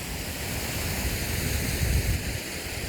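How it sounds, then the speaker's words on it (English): Waterfall on the Isle of Skye near Edinbane, a steady, full rushing roar of falling water heard from nearby with no voices, swelling slightly partway through. "we are near a waterfall"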